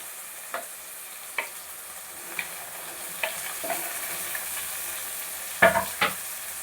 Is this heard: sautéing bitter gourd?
yes